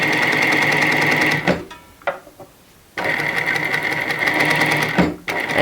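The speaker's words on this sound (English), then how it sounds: "now I'm just going to lift the presser foot, flip everything around, and come back up pretty much on top of that first row." A sewing machine runs in two steady bursts of stitching through fabric for a handmade doll, loud and close, with a pause between them filled by faint handling sounds.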